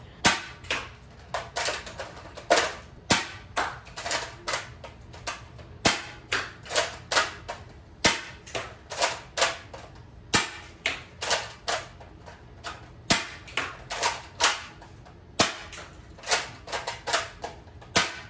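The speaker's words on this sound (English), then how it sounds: "we're going to shoot 6 shots without it, and then 6 shots" A Nerf Elite 2.0 CS-10 toy blaster fires shot after shot, each a sharp, close plastic snap, mixed with the clack of priming in a steady rhythm over about eighteen seconds, with no talking.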